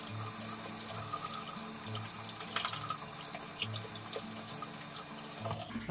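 Lukewarm tap water running steadily into a sink while rinsing during a hair care routine, a continuous close splashing stream with a low rhythmic hum beneath.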